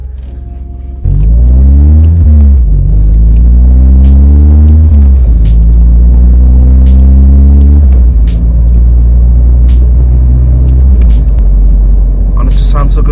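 A 2016 Mazda 3 GT fitted with a Corksport 60.5 mm catback exhaust drives on the road in daylight, its engine note rising and falling through several accelerations and gear changes, loud and close throughout, with a voice talking over it.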